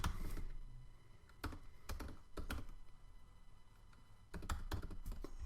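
Credit card details are typed on a computer keyboard in short, quiet clusters of keystrokes separated by brief pauses, with no talking.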